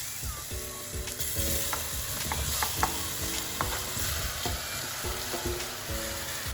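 Apples being stirred into browned caramel in a pan for tarte tatin, with steady sizzling and frying under repeated scraping and clinking of a utensil against the pan, close and continuous.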